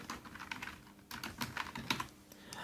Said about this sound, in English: I'm going to Microsoft Word and I'm typing some words